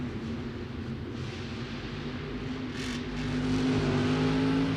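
A Monster Jam monster truck driven by Camden Murphy revs in a stadium arena at LoanDepot Park, Miami, its deep engine droning steadily, then swelling louder toward the end.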